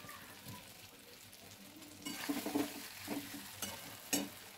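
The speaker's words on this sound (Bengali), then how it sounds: "পটলগুলো দিয়ে আরেকটু মশলার সাথে নাড়াচাড়া করে নেব।" Pointed gourd being stirred with spices and green chillies in a frying pan, giving a soft steady sizzle broken by several scraping stir strokes that grow louder midway, with no talk.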